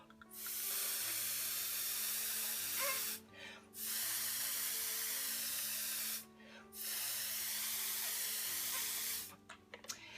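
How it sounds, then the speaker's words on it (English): A paint atomizer spraying white paint in long continuous hissing bursts, each lasting a few seconds and separated by brief pauses, close and steady with no talking. "Now, if you'll notice, I sprayed some area and then I went back."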